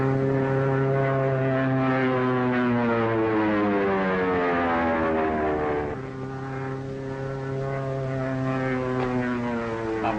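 A propeller airplane stunts overhead, its engine droning loud and steady with pitch sliding up and down as it passes, swelling and easing without a break and no voices.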